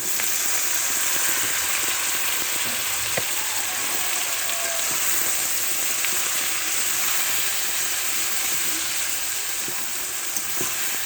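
Small pieces of eggplant fry uncovered in hot oil while they are stirred, producing a loud, dense, continuous sizzle with faint scraping of the spoon, steady throughout with no talk.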